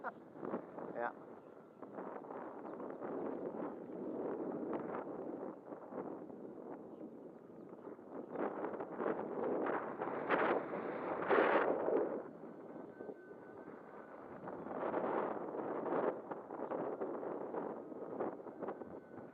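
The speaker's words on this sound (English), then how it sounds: "Way too windy to fly her." Strong outdoor wind blows across the microphone in steady, rumbling gusts that rise and fall, loud enough to keep a small Delta Ray hobby plane grounded, while someone speaks over it.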